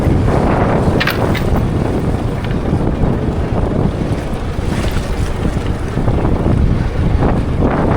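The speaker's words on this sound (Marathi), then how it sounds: "वारा भरपूर सुटला आता आहे" Strong wind roars steadily across the open deep sea during net fishing, with broad gusty rushing and buffeting against the microphone throughout, waves washing underneath.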